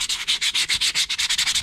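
Sandpaper of 180 grit rubbing a 3D-printed PLA part, a rapid run of about a dozen close, even scratchy strokes in a quick back-and-forth rhythm with no talk.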